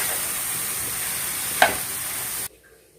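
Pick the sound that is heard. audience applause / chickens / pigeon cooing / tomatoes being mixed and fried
tomatoes being mixed and fried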